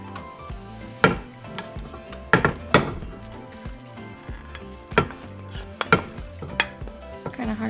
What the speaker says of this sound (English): I'm going to mix my stuffing with my chorizo mix